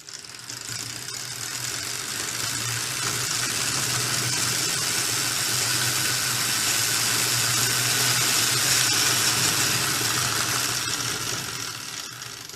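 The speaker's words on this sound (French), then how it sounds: "je fais tourner donc un aimant avec un moteur. Je lance ce moteur, ça va faire un peu de bruit." A small electric motor spinning a magnet whirs steadily, rising in speed and then winding down at the end, with a constant mechanical hum and high whine.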